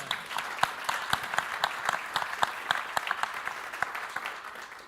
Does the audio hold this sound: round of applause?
yes